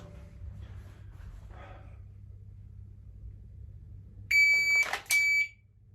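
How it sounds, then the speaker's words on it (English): A shot timer set to random mode sounds two loud electronic beeps, one long and one shorter, after a few seconds of quiet room hum, ringing sharp and close for dry-fire draw practice. "So now I've set the timer to random"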